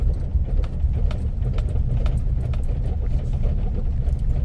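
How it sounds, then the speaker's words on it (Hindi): A worn, high-mileage Maruti Wagon R taxi engine idles roughly with a misfire, a loud, close, uneven rhythmic thudding with irregular knocks and rattles running throughout. "इंजन की मिसिंग है, बहुत ज़्यादा धड़ धड़ धड़ धड़ धड़ धड़ धड़ धड़ कर रही है"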